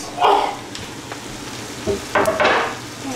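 Meat coated in chutney sizzles in a pan, with brief bursts of frying hiss and stirring scrapes rising and falling over a quiet background, close and moderately loud.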